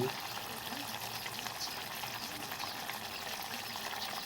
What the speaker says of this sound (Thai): แล้วก็ใช้กะทิลงไปผัดกับพริกแกงก่อนนะคะ ไม่ได้ทำตอนแรกให้ดู อ่าแล้วก็ ผัดกระดูกหมู